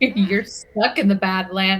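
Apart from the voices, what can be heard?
None of the usual background noises is heard.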